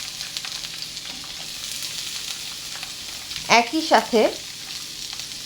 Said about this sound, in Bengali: এখন আমি এই আদা এবং রসুনটা দিয়ে দেব।